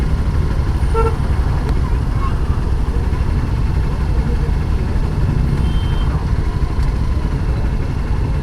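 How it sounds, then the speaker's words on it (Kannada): Vehicle horns honk in short bursts over a dense, constant roar of traffic on a crowded, unfinished bridge, with engines idling and people talking amid the congestion. "ಶುರುವಾಯಿತು ಹಾರ್ನ್ಗಳು"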